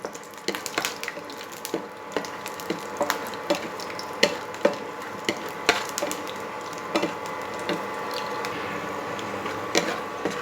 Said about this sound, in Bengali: বাদামটা কিন্তু কন্টিনিউ নাড়াচাড়া করে ফ্রাই করতে হবে